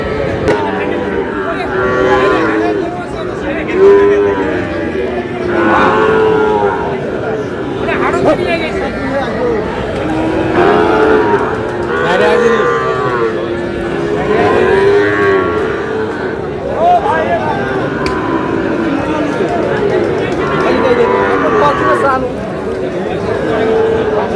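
Bull calves at a rainy cattle market in Tangail, mooing repeatedly in drawn-out calls, some near and loud, over a constant background of crowd chatter and people talking.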